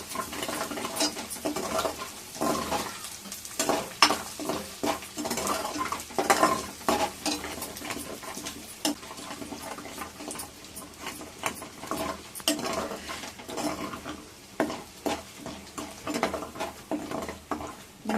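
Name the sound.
ginger frying until golden, stirred in pan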